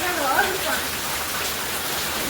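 Dense, continuous downpour hisses steadily, heavy rain drumming on surfaces close by, with a faint voice briefly audible at the start.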